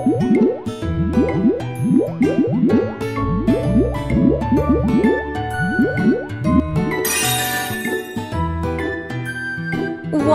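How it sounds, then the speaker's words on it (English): Wet, squishy drips and plops of soap bubbles in a children's video game, Tayo the Little Bus, repeat in quick succession over a light musical backing, with a brief bright tinkling flourish partway through. "Make some bubbles on their faces."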